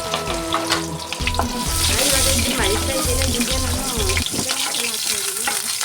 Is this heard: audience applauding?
no